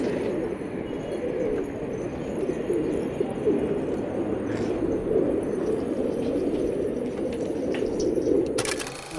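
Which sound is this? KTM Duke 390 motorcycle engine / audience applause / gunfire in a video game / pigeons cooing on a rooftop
pigeons cooing on a rooftop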